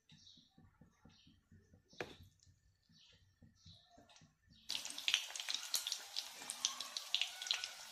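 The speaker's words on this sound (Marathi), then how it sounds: "आता आपण त्याच्यामध्ये आपण भाकरवड्या आता तळून घेऊया." Bhakarwadi, spiced rolled Maharashtrian snacks, drop into hot oil over a medium flame. After quieter handling sounds, a dense crackling sizzle starts abruptly and continues close and steady, with no talking.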